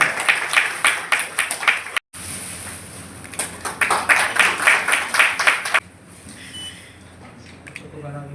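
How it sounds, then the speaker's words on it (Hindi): Seminar audience on green energy in India claps in bursts of fairly loud, rhythmic applause, interrupted by a short gap, then it fades out and quieter room sound with faint voices follows. "जोरदार तालियां।"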